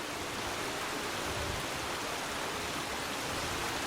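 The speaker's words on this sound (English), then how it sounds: "So that is my first attempt at making a waterfall feature." A built waterfall feature beside a pool in Fallout 4 gives a steady, dense rush of falling water, even and unbroken throughout like heavy rain.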